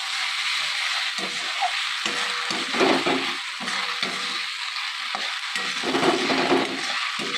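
Chilli chicken sauce thickened with cornflour and hot water being stirred in a pan, a loud continuous bubbling sizzle with rhythmic scraping strokes of the spoon repeating every second or so.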